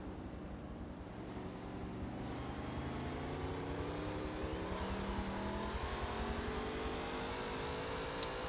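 Race cars in a Forza racing series event at Daytona International Speedway drone continuously as they run close together, their engine tones rising and overlapping in a steady, loud, buzzing roar.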